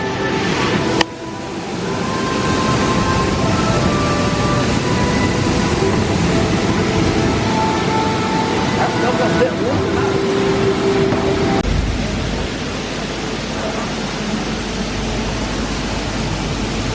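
Steady rumbling ride noise with a broad wash of water and machinery, a boat gliding in on the Alice in Wonderland ride at Blackpool Pleasure Beach with a brief rise and thump, continuous throughout.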